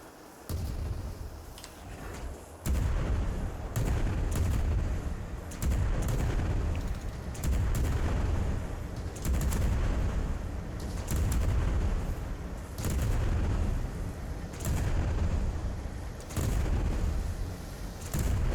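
Front-mounted ship guns in Worlds Adrift boom in heavy, repeated volleys across eighteen seconds, the dense rumbling blasts arriving in clustered bursts with short gaps, loud and close with a constant low roar beneath.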